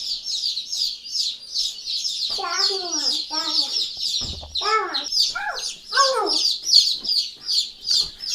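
Young chicks in a brooder house under a warming lamp keep up a constant shrill chorus of peeping, close and loud, with a few lower clucking calls and a brief thump in the middle.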